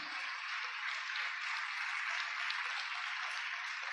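Congregation at a Spanish-language church service applauding together, a dense, steady wash of many hands clapping at even loudness throughout, with no voices standing out.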